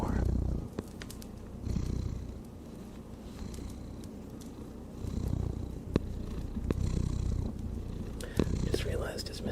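A soft, rumbling cat purr continues throughout, close up, while a person talks quietly over it.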